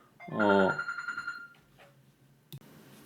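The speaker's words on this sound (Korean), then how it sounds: "휴대폰 소리를 무음으로 못 해놨네요." A mobile phone rings with a loud, bright warbling burst that cuts off within a second, followed by quiet room noise and a short knock.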